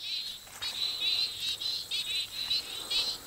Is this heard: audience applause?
no